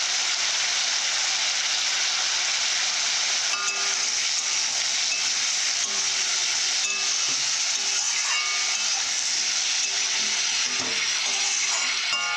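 Spices and chili powder sauté in a pan for a Bengali taro-leaf dish with bata fish, giving a soft continuous sizzle with faint scattered scraping, moderate in level and unaccompanied by speech.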